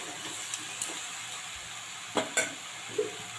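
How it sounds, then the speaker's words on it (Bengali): Ridge gourd and chickpeas sauté in a pan with a steady low sizzle, broken by a few sharp scrapes and clinks of a spatula against the pan, heard close with no talking. "এবার আবার আমি কষাতে থাকবো ঢাকা চাপা দিয়ে বারবার"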